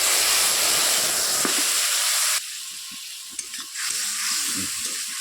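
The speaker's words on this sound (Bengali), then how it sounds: "তেলটা গরম হয়ে গেছে এবার ফোড়নটা দিয়ে দিই ফোড়নটা দিয়ে দিচ্ছি এবার বানিয়ে রাখা মশলাটা দিয়ে দিই" Spice tempering hits hot oil with a loud, steady sizzle and hiss. It then drops abruptly as masala paste goes in, leaving quieter bubbling frying with occasional stirring clatter, close by.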